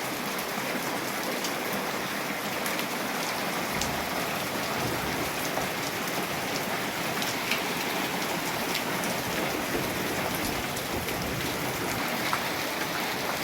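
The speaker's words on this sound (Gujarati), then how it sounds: "જો જો આ વરસાદ" Steady, dense unseasonal rainfall on farmland pattering continuously on surfaces, a close and even wash of drops with no voices.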